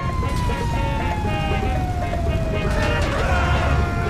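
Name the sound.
fire truck siren in video game GTA 5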